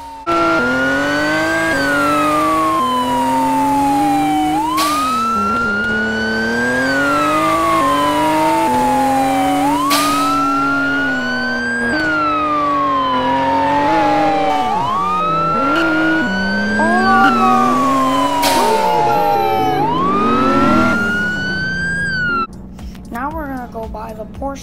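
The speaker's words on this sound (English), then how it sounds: "look, now we have police sirens" Police sirens on a car in the Roblox game Driving Empire wail loudly and continuously, rising and falling in repeated sweeping cycles before cutting off near the end.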